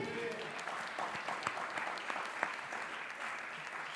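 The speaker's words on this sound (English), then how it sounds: "Give yourselves a round of applause." An audience at an evening awards ceremony claps steadily, a fairly faint, continuous wash of hands with a few sharper claps standing out, heard from within the room.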